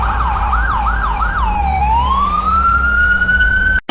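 A cartoon fire engine's siren wails in a fast rising and falling yelp, then shifts into one long, steady rising tone. It sounds loud and close, with no talk over it, and cuts off abruptly at the end.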